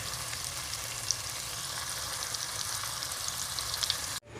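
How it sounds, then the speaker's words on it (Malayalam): Prawns frying in a pan produce a continuous, even sizzle heard up close with no voices, cutting off abruptly at the end. "കുറേശ്ശെയായിട്ട് നമുക്ക് ഇതൊന്ന് ഫ്രൈ ആക്കി എടുക്കാം"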